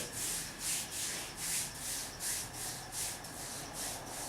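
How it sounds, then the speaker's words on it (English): A hand rubs liniment into a shin for kung fu conditioning, making a soft, rhythmic friction swish in steady strokes, close and quiet, with no voices. "And you'll rub it in."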